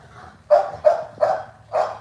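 A dog lets out four quick, regular barks at close range, each bark brief and forceful, with only faint background noise between them and nobody talking.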